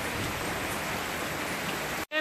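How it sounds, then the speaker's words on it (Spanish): Steady, dense rain falls in western Puerto Rico during Hurricane Irma, a continuous close hiss with no wind gusts, cutting off abruptly at the end. "sigue la lluvia"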